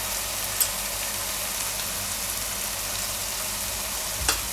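Spices dropped into hot oil while frying palak adad dal, a Gujarati spinach and urad lentil dish: a steady, even sizzle with faint crackle and a couple of small clinks, no voices.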